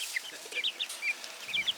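Young chickens peep and cheep in short high chirps, a quick irregular run of small calls close by with no talking.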